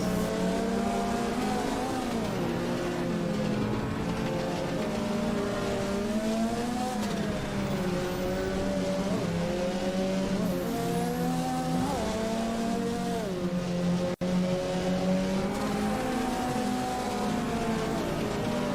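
A Ford Escort rally car climbs a European hill climb course at Glasbach, its engine revving hard and continuously with rising and falling pitch as it shifts gears, heard steadily from start to finish with no talk.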